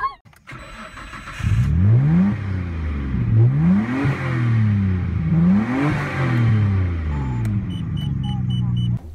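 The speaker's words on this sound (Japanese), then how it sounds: "だってこんな加速するんだよ。" A Nissan Leaf Nismo electric car accelerates hard, with a rising and falling whine climbing in repeated sweeps over about eight seconds. Brief beeps and voices sit faintly beneath it.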